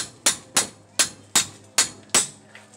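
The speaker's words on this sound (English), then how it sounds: "I like to use a wrench and hit it with a hammer" Six sharp metallic hammer blows on a wrench, struck at a steady rhythm about every half second, working to break loose the rusted wheel bearing bolts on a 2008 Impala; close and loud with no talk.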